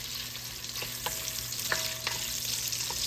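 Spicy sausage frying in a pan, a soft continuous sizzle of rendering fat with a few distinct scrapes and taps of a spoon stirring, fairly quiet and close.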